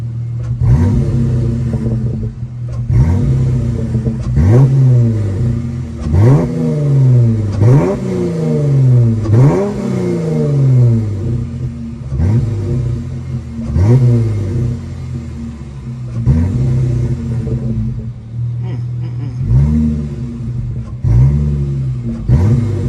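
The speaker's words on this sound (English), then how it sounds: "give y'all some revs, I guess, real quick" A V6 Chrysler 300S engine revs repeatedly, each throttle blip rising and falling in pitch over a steady idle, loud and close, around ten revs in a row.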